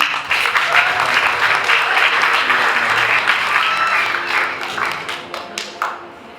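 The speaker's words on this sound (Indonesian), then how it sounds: "berikan tepuk tangan" A crowd at a Batak wedding applauds loudly and steadily, then the clapping thins out into scattered claps near the end.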